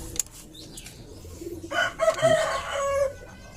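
A chicken with a respiratory illness that causes snoring sounds gives a short crow and some clucks at moderate distance, under quiet background noise after a brief sharp sound at the start.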